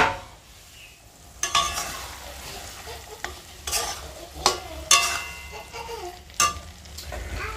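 Black taro curry sizzles in a pan while a utensil stirs and scrapes it, with several sharp scraping strokes over a low, steady frying hiss.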